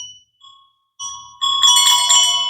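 Well-made metal bells struck one after another, a few single clear tones first, then several ringing together in a bright, sustained, shimmering chime close by.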